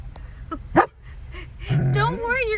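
Dog whining and whimpering for a puppuccino, short high yips followed by a drawn-out wavering whine, close by with a person talking over it.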